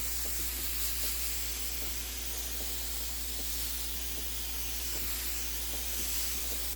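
A spray bottle mists lukewarm water over tomato seedlings in a tray, giving a continuous soft hiss alongside a few faint light clicks, with a steady low hum underneath.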